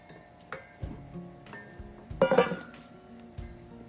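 Eggs are added to a glass mixing bowl for chocolate chip cookie dough, giving a few light clinks and taps spread over several seconds, with a brighter cluster of knocks in the middle, quiet and close.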